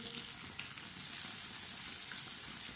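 Potato tikki sizzle steadily as they shallow-fry in hot oil in a pan, a continuous close crackle and hiss that runs without a break and with no talk.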